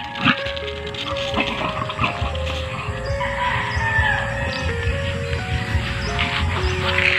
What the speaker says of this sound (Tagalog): Doon, maraming manok doon.